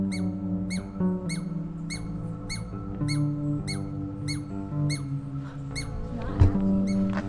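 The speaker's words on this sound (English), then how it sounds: "I've never heard a squirrel make that noise." Squirrel at Ecola State Park on the Oregon coast giving a run of short, high, evenly spaced squeaks, about a dozen in steady rhythm, over a constant low background hum.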